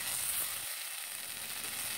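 Roselle leaves fry in a pan with a steady, dense sizzle that carries on throughout, close and fairly loud with no talking.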